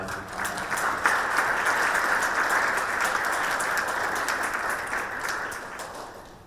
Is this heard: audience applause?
yes